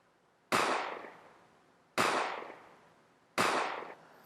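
Three sharp, echoing gunshot bursts spaced evenly about a second and a half apart, each with a hard attack and a decaying tail, used as a sound effect for video editing, with no other sounds.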